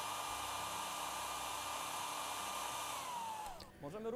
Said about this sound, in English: We should take a hairdryer and a direct stream of air onto the blades of our rotor.